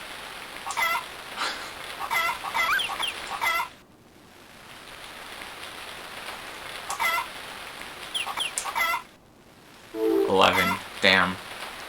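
Chicken clucks from the video game Harvest Moon: More Friends of Mineral Town, short bursts heard in several groups over a rainy-sounding background hiss, with a louder, fuller run of clucking near the end.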